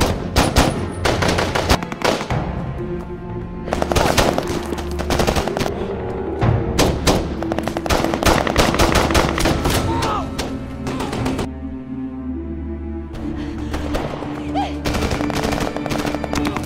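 Rapid bursts of machine gun fire crackle repeatedly in a film battle scene, loud and close, with sharp thuds between volleys and brief pauses in the shooting.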